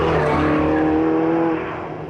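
A Porsche 918 Spyder roars around a racing track, its engine loud and sustained at close range before fading slightly as it moves away, with no talk.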